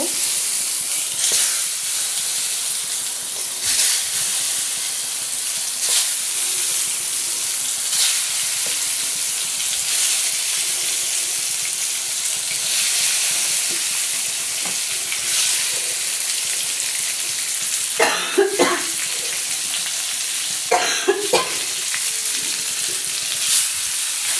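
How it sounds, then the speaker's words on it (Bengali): Eggplant frying in hot oil in a pan, a continuous loud close sizzle with a few brief scraping or stirring bursts near the end and no talk. "এবার বেগুনটাকে ভেজে নেব।"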